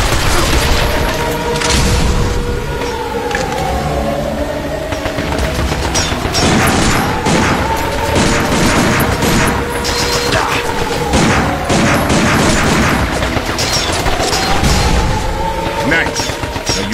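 Dense gunfire from shooting robot enemies in the video game Binary Domain, with rapid automatic bursts and heavy impacts layered into a loud, continuous barrage of combat noise.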